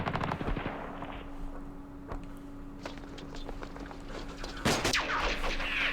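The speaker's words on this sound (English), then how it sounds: "maybe doing some shooting" Bursts of small-arms and machine-gun fire in the Eastern Front war game Campaign Series East Front, sharp cracks against a steady background hum with a louder volley near the end.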